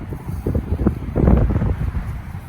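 Gusty wind buffets the microphone at Mission Bay, San Diego, on a cloudy, cold day, in uneven rumbling surges that swell louder midway, with no talking.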